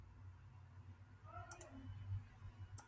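Soft computer mouse clicks on a button in a quiet room, a quick double click followed later by another pair, crisp and close against faint background hum.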